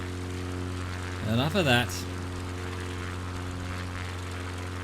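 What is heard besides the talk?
propeller airplane in flight, heard from on board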